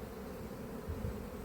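Bees hum steadily around a hive in a quiet, continuous low drone with no talk over it, and the buzz swells slightly for a moment near the end.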